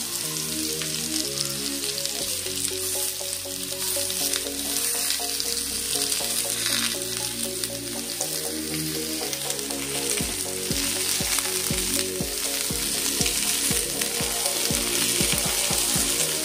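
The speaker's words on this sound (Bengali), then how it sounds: "এটাও একটু ভাজা ভাজা হলে তারপরে আমি এবার মশলা অ্যাড করবো।" Ridge gourd and potatoes sizzling loudly in an oiled pan, a constant crackling fry with repeated stirring scrapes, the strokes growing quicker and more percussive toward the end.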